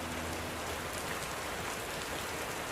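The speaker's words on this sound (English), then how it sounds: "But when we're done, a downpour ensues." Steady heavy rain pours down on a driving course during a downpour, a dense continuous hiss of drops with no talk.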